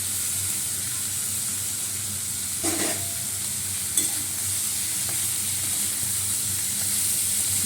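Prawns with chopped onion, tomato and potato frying in a pan, a continuous close hissing sizzle with a couple of brief scraping stirs partway through.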